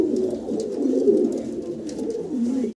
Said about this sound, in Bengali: ডিম বাচ্চা করা একটা কবুতর